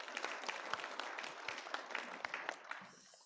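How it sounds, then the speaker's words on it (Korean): A church congregation claps during a Korean New Year Sunday worship service, a fairly soft, slightly uneven patter of many hands lasting a few seconds before tapering off. "영광의 박수 올리겠습니다."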